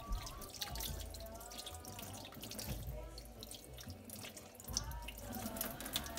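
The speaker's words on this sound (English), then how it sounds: "So just be sure to give it a pretty good rinse." Beef tongue rinsed under a running kitchen tap, a steady close splashing and trickling of water into the sink that swells and eases as the meat is turned, with no talking.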